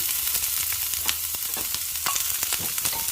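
Onion stir-frying in a pan for a mixed vegetable dish with oyster sauce gives a steady, close sizzle punctuated by repeated sharp scrapes and clicks of stirring, with no talking.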